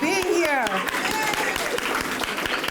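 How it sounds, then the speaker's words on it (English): Children clap through a school Black History Month assembly in a steady burst of applause, starting just as an adult voice trails off, with individual claps standing out near the front. "Give yourself a round of applause for being here."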